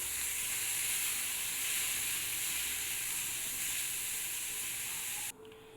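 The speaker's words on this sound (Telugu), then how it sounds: "బీరకాయ పొట్టు అనేది ఈ విధంగా వేసుకోవాలి ఈ విధంగా అయితే వేయించుకోండి" Ridge gourd peel frying in a pan for a chutney, a steady hissing sizzle close by that holds level for about five seconds before abruptly dropping away, no voices.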